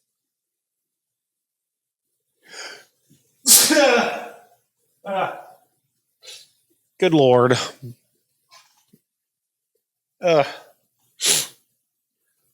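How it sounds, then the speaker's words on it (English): A person indoors gives several sharp, loud sneezes, separated by silence and short breaths, with a brief muttered exclamation between them. "Oh no, I have to sneeze."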